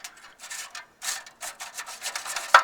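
A small metal probe scraping and rubbing inside the tubes of a Ford Model A radiator, pushing built-up junk down, with short gritty strokes in an uneven rhythm, close and fairly quiet, ending in a sharper click.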